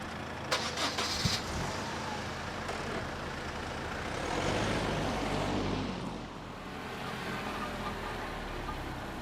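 A car pulls away slowly, its engine rumbling low and steady, swelling a little in the middle before settling into a continuous muffled drone.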